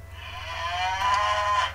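Cattle moo at a barn in the city-building game SimCity 4, one drawn-out mid-pitched lowing call over a constant low game hum.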